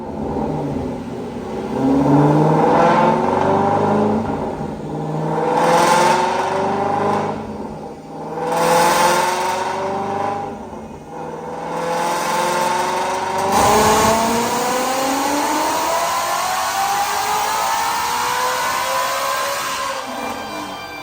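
A 2017 Ford Mustang GT350 with a Whipple supercharger on E85, with a 3.5 pulley, runs on a dyno, the V8 revving in several swelling pulls, then winding up through one long loud run to high revs before backing off.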